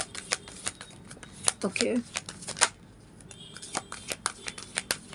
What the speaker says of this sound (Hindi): आई थिंक एक लास्ट शफल कर लेते हैं।